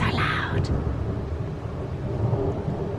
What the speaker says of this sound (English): oh, thunder.